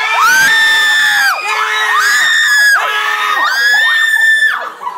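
A team of young people loudly shouts its group cheer in unison, high excited voices rising and falling in three or four sustained yells, close and crowded.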